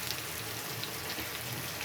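Water poured into a pan of fried fish curry with lentil fritters makes a faint, even sizzle and hiss that continues steadily, with no one talking.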